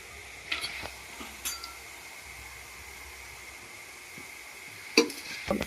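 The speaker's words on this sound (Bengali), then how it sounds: "আবার একটা ভেজে নিচ্ছি" Jhuri bhaja, a Bengali fried snack, frying in hot oil, with a quiet steady sizzle and a few sharp clinks and stirring scrapes, the loudest near the end. No one speaks.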